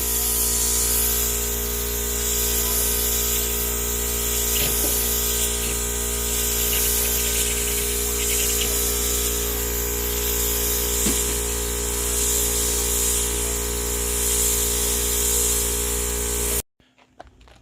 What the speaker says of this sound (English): here's Junior laying down our coat of primer.